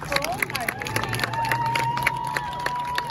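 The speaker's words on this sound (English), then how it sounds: "Let's have one more round of applause, please" Crowd applause and cheering for the Silverado High School Marching Band at an outdoor high school field, steady clapping with scattered whoops and a sustained horn-like tone running through it.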